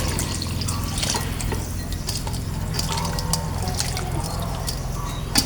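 Rice-washing water is poured over prepared small fish to soak them for Thai fermented fish, a steady close splashing trickle of liquid running throughout with no talk.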